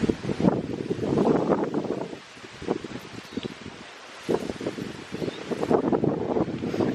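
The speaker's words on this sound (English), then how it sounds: "gosh, the wind today." Strong wind gusts through an outdoor mini orchard, roaring against the microphone with rustling leaves. A loud burst drops into a quieter lull mid-way before the gusts surge back, with no talking.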